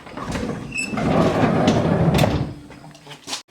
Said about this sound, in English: and then we have to open the door